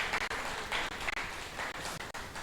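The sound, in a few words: applause for a speaker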